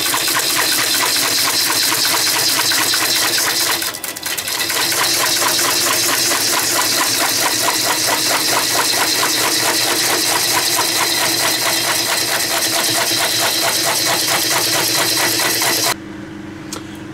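A VB36 wood lathe spins a large bowl blank during outside profile shaping, giving a steady loud mechanical hum with rapid rhythmic rattling and knocking, a brief dip around four seconds, and a change near the end.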